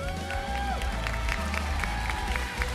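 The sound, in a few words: applause from esports event audience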